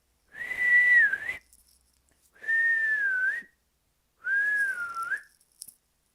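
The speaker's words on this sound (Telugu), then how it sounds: "విజిల్ వేసుకోండి ఒకసారి మాస్ కూడర్స్." Audience whistling at a Telugu programming class birthday celebration: three sustained, wavering whistles, each about a second long, separated by short silences, loud and close with no talk.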